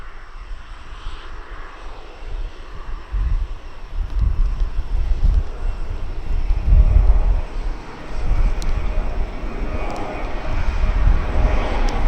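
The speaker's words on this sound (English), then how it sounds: "So that's our Ryanair taking off." A Ryanair airliner takes off at East Midlands Airport, heard from the end of the runway as a deep, swelling engine roar over wind noise that grows louder toward the middle and stays heavy to the end.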